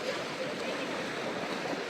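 Sea waves wash onto Karaburun beach in Arnavutköy, Istanbul, where the water is rough: a steady, broad hiss of surf, moderately distant and continuous, with no clear voices.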